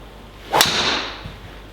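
A Ping G400 Max driver strikes a golf ball with a single sharp, close crack and a short fading ring afterward, with nothing else around it.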